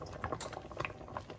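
Pecan chili simmering in a pot, giving soft, faint, irregular bubbling pops in quick succession with no voices.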